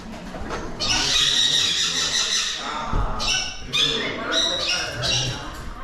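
Parrots squawk loudly in a parrot nursery at Parrot Mountain in Pigeon Forge, with shrill calls that overlap and repeat close by and a busy room noise underneath.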